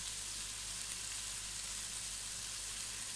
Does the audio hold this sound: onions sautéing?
yes